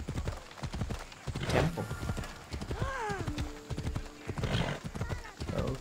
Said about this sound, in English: I love that sound of the horse.